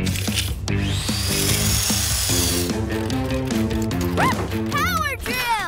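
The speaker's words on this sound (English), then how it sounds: "Power drill!" A cartoon power drill whirs in a children's animated show about building a beaver home, buzzing under lively background music and excited character voices, with a burst of high swooping sound effects near the end.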